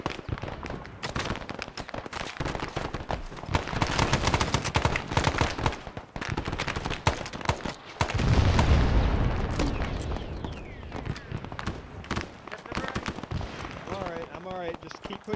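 Machine guns and rifles fire in rapid bursts and scattered cracks throughout a milsim skirmish, some near and loud, others distant, with a heavier blast near the middle and people shouting over the shooting.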